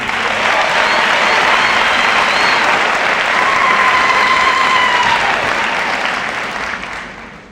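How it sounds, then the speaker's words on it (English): An audience applauds at a university chancellor inauguration, sustained dense clapping across a large hall that stays loud for several seconds before tapering off at the end. "Let's repeat again a round of applause"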